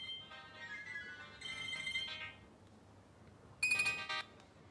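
A mobile phone ringtone chimes in bursts of bright melodic tones, pausing between phrases, fairly clear but modest in level, with no talking over it.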